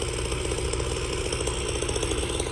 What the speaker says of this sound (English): Today's on the brush cutter, sorry. Trimmer.